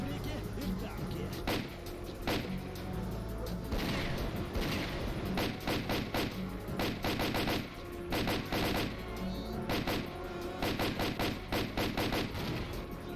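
Gunshots in the video game S.T.A.L.K.E.R. Clear Sky, repeated close bursts of automatic fire in irregular clusters throughout, loud and punchy over a busy background.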